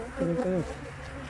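Honey bees buzz at an opened hive, a brief moderately loud swell of droning wings lasting about half a second before fading into low background hum.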